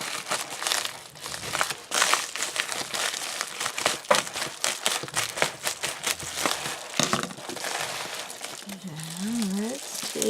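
Crinkly envelope mailer being torn and pulled open up close, repeated sharp rustles, crackles and ripping bursts throughout, with a voice speaking briefly near the end.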